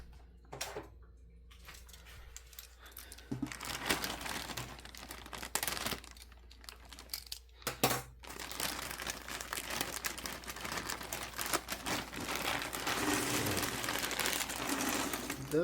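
Plastic wrap being cut and torn open on a Ravensburger jigsaw puzzle box, a steady crinkling rustle that runs nearly continuously and close up, with a few brief pauses early on.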